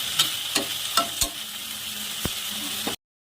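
Noodles stirred in a hot pan with a constant sizzle and several sharp utensil scrapes and taps at uneven intervals, close and steady, with no voices until an abrupt cutoff.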